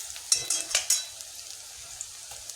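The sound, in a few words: ginger garlic paste frying in oil in a kadai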